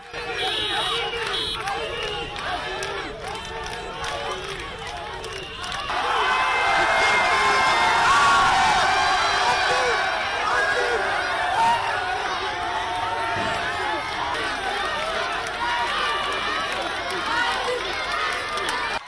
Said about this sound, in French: Tout au long du trajet, le chef de l'État s'est offert un bain de foule.